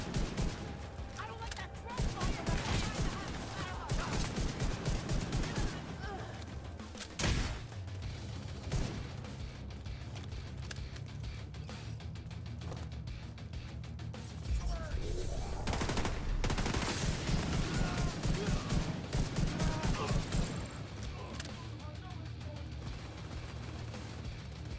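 Video game gunfire and turret shooting crackle in repeated rapid bursts and scattered booms across a long stretch, at moderate level beneath players talking.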